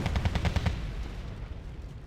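Rapid series of heavy booming shots from a K9 Thunderer self-propelled artillery piece in the Cold War strategy game Wargame: Red Dragon, about six evenly spaced blasts followed by a long rumbling decay.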